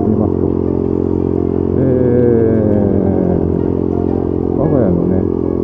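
A Honda Monkey Z50J 50cc motorcycle being ridden on a weekday errand, its small engine holding a steady, close buzzing drone throughout while a voice talks over it.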